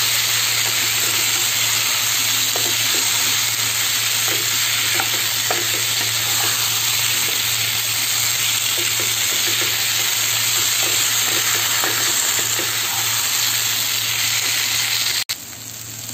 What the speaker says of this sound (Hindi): अब हम डालेंगे इसमें आलू, और इसको अच्छे से मिक्स करेंगे मसाले में।